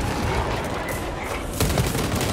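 Gunfire in the video game Space Marine 2 rattles as a dense, continuous barrage of rapid shots, loud and close, swelling slightly toward the end.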